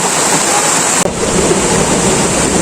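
The Khao Khram waterfall in Phatthalung, Thailand, roars as a loud, continuous broadband rush of falling water, close and unbroken apart from one brief dropout, with no talking.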